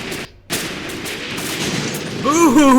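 Machine gun fire in the tactical war game Graviteam Tactics: Mius Front, loud bursts of gunfire with a brief silent gap early on, a voice briefly heard near the end.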